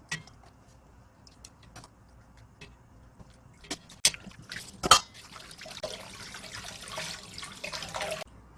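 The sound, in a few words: tap water running to wash pork ribs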